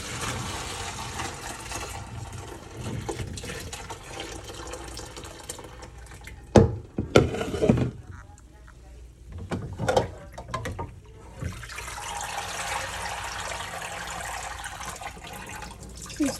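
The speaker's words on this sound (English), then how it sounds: "I'm gonna take it to the sink and pour it in the colander to separate the rest." Liquid from cheese curds is poured into a colander at a kitchen sink, giving a steady running splash with a few louder clattering bursts midway and then a continued, even wash of water noise.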